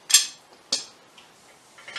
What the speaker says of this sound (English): I'm going to give it a strike with the hammer